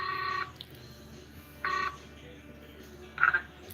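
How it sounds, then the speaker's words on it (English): A phone is dialed to call someone back, sounding three short separate touch-tone beeps spaced about a second apart over a quiet line. "let me try calling you back then."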